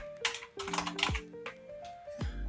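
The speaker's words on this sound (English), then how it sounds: "I'm going to type my message here." Typing on a computer keyboard, a close, quiet run of irregular key clicks and taps with short pauses, no talking.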